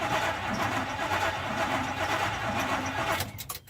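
A 1983 Chevrolet C10 with a 305 V8 and freshly rebuilt carburetor cranks and runs, a close, loud rough engine sound that drops away near the end.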